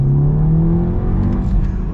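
A 2023 VW Golf R pulls hard under acceleration, its engine note a loud, steady rising drone from inside the car, with no talk.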